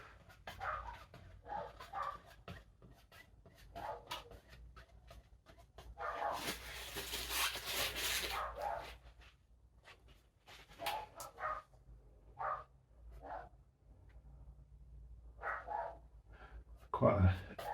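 Pet dogs barking indoors, with intermittent yaps and whimpers scattered through the stretch, one loud sustained burst in the middle, while a person talks quietly in between.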